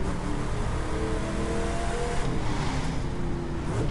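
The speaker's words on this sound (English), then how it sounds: "all these cars sound amazing" Car engines in the racing video game The Crew 2, a steady loud engine drone with revving and gear changes throughout, no talk.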